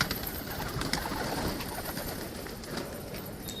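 Soft cooing of a pigeon over a steady outdoor background hiss, faint and somewhat distant.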